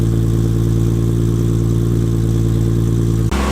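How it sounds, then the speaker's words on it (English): Steady, loud idle of a Nissan 240SX with an RB25 engine swap running in a garage, continuous throaty drone that cuts off sharply near the end. "decided to warm the car up and just give it a couple revs in the garage"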